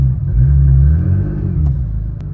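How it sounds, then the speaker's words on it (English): A BMW E90 M3 engine revving while in first gear, a loud, close, deep rumbling roar that swells and holds steady for a couple of seconds, then eases slightly, with no talk. "Just press the gas in first gear."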